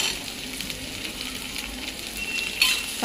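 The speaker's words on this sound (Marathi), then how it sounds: "चांगलं भाजून घ्यायच्या।" Finely chopped green chillies fry in a pan with a continuous close sizzle and light stirring, ending in a brief sharper scrape.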